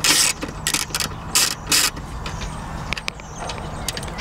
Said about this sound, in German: Die vorderen Schrauben hier werden mit einem 30er Torx gelöst.